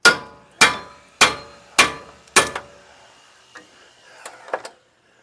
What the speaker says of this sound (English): So I'm going to try it with the hammer.